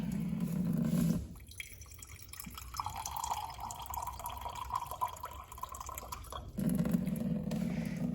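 Water trickles and drips through soil in a small classroom-style experiment on the water cycle, a faint continuous patter framed by louder pouring or running water before and after.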